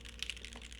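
Typing on a custom mechanical keyboard with a brass plate: a short, quiet run of key clacks, a couple of sharper strikes standing out over a low steady hum.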